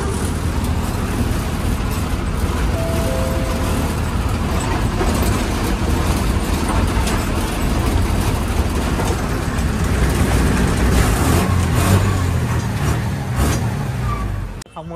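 An MSRTC bus pulls into the Khamgaon bus stand with a steady, close engine rumble under dense roadway traffic noise that swells slightly near the end.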